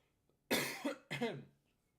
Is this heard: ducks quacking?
no